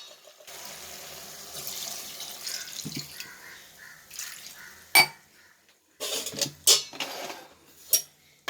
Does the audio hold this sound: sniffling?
no